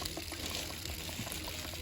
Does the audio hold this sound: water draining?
yes